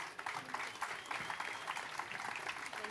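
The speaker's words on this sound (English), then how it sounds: "a huge round of applause for our panelists" Applause for conference panelists at a Cannes Lions media panel, a sustained patter of clapping from a seated audience, steady and moderately loud for the whole stretch.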